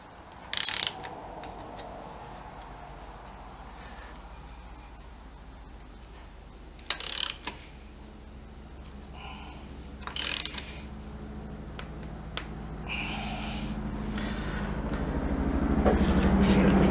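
Ratchet wrench clicking in short bursts while tightening the rotor nut on a BSA B50T motorcycle, a few separate ratcheting bursts spaced apart over a steady low hum.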